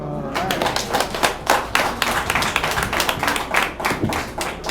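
Hand clapping at a funeral in La Gonâve, Haiti: a scattered, uneven burst of claps close by, with people talking underneath.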